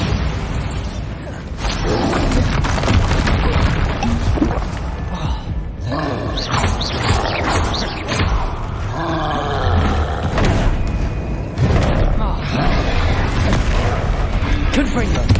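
Repeated heavy booms and roaring blasts from Bombarda spells in Hogwarts Legacy, loud and close, arriving in quick succession with rumbling tails between them, alongside a voice calling out spell names.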